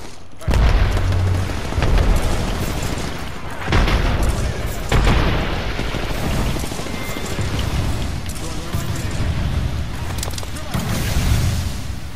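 Gunfire in an Apex Legends firefight, with repeated heavy booming shots and bursts across the scene, loud and close, over a constant battle din.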